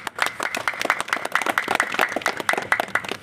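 An audience claps together in a steady, fairly loud burst at a Jan Adhikar Party meeting in Purnia, with the claps coming thick and regular for a few seconds.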